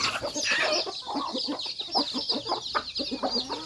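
Native chickens and chicks on a farm in Davao City clucking busily at feeding time, a dense, continuous chorus of clucks and cheeps close by with no talking.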